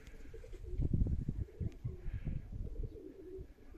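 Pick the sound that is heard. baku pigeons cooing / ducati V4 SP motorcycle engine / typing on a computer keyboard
baku pigeons cooing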